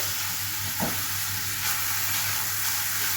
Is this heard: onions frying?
yes